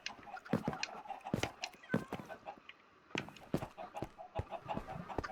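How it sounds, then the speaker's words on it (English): Chickens cluck in short, sharp bursts on a Minecraft chicken farm, a cluster of several birds calling close by. The calls are loud, come in irregular runs and stop briefly partway through. "Chicken farms, no lag"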